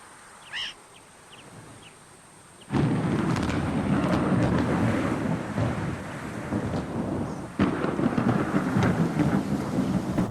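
A thunderstorm with heavy rain: after a quiet stretch with a faint chirp, a loud roar of downpour and rumbling thunder bursts in and stays, then a second surge of rain and thunder hits close by.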